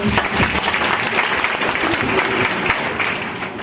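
A crowd claps at a network marketing meeting in Jaunpur, dense rattling applause in a hall with a few sharper nearby claps, fading slightly toward the end.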